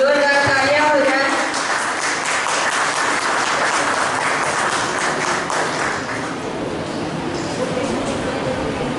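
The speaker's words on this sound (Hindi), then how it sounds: "जोरदार तालियां हो जाए।" An audience at an award ceremony breaks into applause, loud clapping that starts strong, with a voice talking briefly over it, then gradually thins out toward the end.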